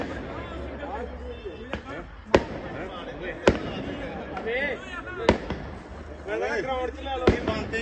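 Firecrackers bursting at night on a floodlit ground set up for cricket: several sharp, loud bangs at irregular intervals over a steady murmur of people talking nearby.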